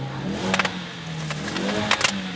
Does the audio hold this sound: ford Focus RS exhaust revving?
yes